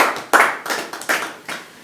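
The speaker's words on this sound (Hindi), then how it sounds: "एक बार जोरदार से ताली हो जाएगी।" An audience at a talk-show-style community event claps loudly in a few rhythmic bursts, a short near round of applause with no talk over it.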